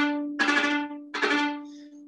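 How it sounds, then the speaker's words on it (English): Viola with the bow bouncing on the string, a sustained low tone overlaid by two bursts of rapid, bright ricochet bow strokes, each lasting about half a second, played close and alone. "where he has the viola sort of bounce the string"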